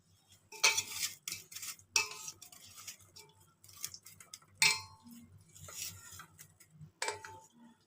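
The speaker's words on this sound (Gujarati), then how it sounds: "હવે આને બધું હલાવી લઈશું" A spoon stirs a chunky pickle mixture in a bowl, giving intermittent bursts of clinking and scraping against the bowl, fairly close and separated by short quiet gaps, with no talking.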